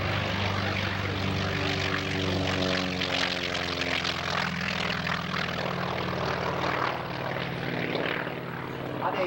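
A 600-horsepower Pratt & Whitney radial engine on a propeller plane roars loudly and steadily as it passes close by at an airshow, a deep throbbing drone with shifting pitch.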